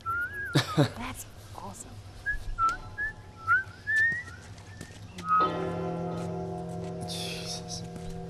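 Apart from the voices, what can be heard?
character whistling in The Last of Us video game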